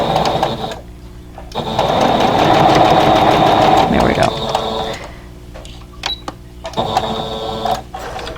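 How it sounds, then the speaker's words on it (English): A sewing machine chain-pieces a vintage quilt block, running in loud bursts of rapid mechanical whirring with pauses and clicks between, while someone talks. "I just raise the presser foot, it goes down flat, and then I just keep on sewing"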